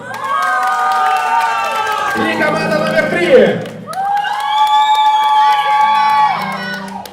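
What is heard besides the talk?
applause and cheering for competing teams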